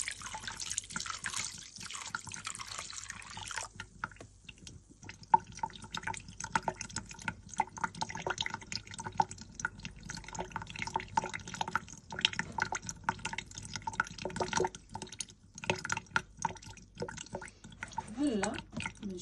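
Water pours and drips steadily in a home kitchen while making labneh, a continuous close splashing trickle with scattered drips throughout.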